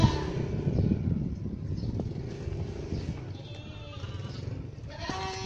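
Goats bleat in a busy outdoor setting at an Eid al-Adha sacrifice at a mosque. Several bleats rise over a steady murmur of crowd and animal noise, with occasional hoof clatter.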